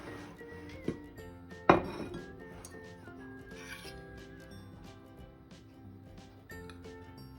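Sausage in tomato paste sauce is spooned onto a serving plate, with clinks of a utensil against dishes, one sharper clatter, and light scraping, all quiet and close.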